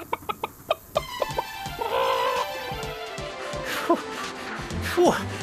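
A puppet theatre chicken clucks and squawks in quick agitated bursts, with a voice performing the bird's clucks over music and rapid knocking early on.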